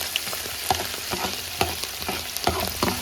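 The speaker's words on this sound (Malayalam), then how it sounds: "ഇഞ്ചിയുള്ളി ഇട്ട് കൊടുത്തേക്കാം നല്ലപോലെ ഒന്ന് മൂക്കട്ടെ" Ginger and onion sizzle steadily in a pan as the base for a fish pickle. Sharp clinks of a stirring spoon cut in at irregular intervals.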